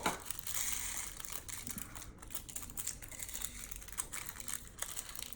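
A plastic bag is split open and its contents emptied into a big bucket, making quiet close crinkling and crunching with irregular clicks and rustles throughout, without any talking.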